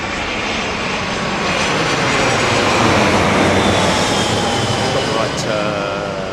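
Airliner arriving to land at Heathrow in low-pressure, moist conditions, a loud steady broadband engine roar close overhead that swells slightly mid-pass and holds throughout.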